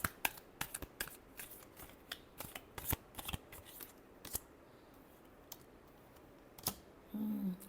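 Tarot cards being shuffled by hand in a quiet room, a run of quick crisp riffling snaps and taps in irregular bursts, close and fairly soft, with a brief rustle near the end.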